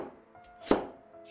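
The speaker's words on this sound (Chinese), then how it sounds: "准备一个土豆，去皮之后切成小块" A knife chops a peeled potato into small pieces on a board, a few soft taps followed by one sharp, loud chop, close and with no voices.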